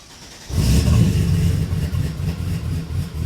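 A car engine cranks and catches at about half a second, then settles into a steady rumbling run on a car fitted with a lightweight Antigravity battery; the engine is close and loud with no talking.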